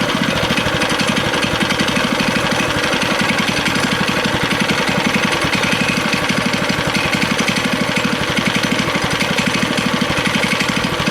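A go-kart engine with a non-working throttle runs at a constant idle, a loud, steady, rapid mechanical chug with no revving for the whole stretch and no voices.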